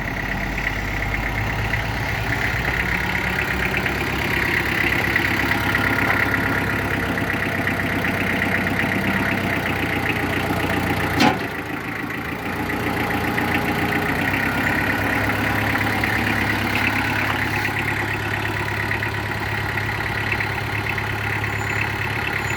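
A heavy Mitsubishi tractor engine with a hydraulic front loader idles steadily and loudly throughout, with a constant low rumble and a brief click partway through.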